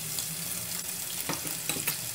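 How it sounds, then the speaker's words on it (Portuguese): Bacon sizzles steadily in a pan for farofa, a dense, even frying hiss with a few soft clicks and scrapes near the end. "Agora nós vamos entrar com o bacon."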